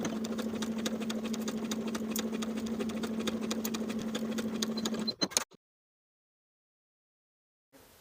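A sewing machine stitches a shirt placket with a steady, close mechanical whir for about five seconds, then stops abruptly for backstitching, leaving near silence.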